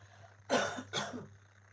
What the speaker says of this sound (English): I've just got to clear my throat, excuse me.